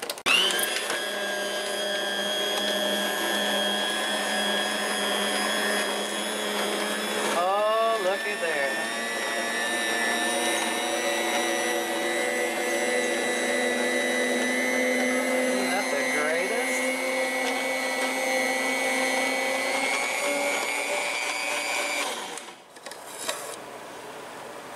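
An Aldi electric spiralizer runs steadily while spiralizing a zucchini, giving a loud continuous motor whine that strains and shifts in pitch as the vegetable feeds through, then cuts off near the end.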